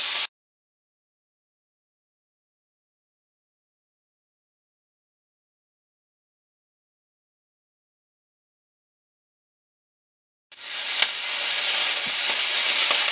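Beef for a low-carb cheesesteak sizzles steadily on a hot griddle. A brief burst of frying is followed by a long silent gap, then the continuous hiss returns, fairly quiet and with no voices.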